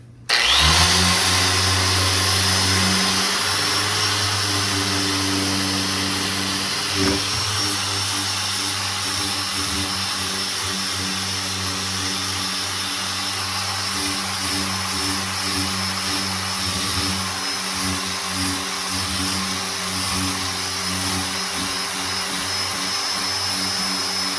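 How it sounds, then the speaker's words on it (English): A dual-action sander running with 80-grit paper over the body of a 1969 GTO, a loud steady motor whir that holds an even drone from start to finish with no talking. "I like to go over it again with like 80 grit on a DA"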